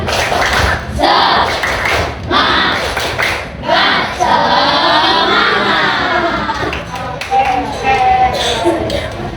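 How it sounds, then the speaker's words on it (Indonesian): A primary school class performing the rhythmic 'tepuk semangat' spirit clap, with loud group clapping and thumps mixed with children's voices and chanting, close and energetic throughout. "kita tepuk semangat dulu yuk biar semuanya semangat"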